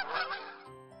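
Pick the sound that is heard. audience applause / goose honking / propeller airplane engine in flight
goose honking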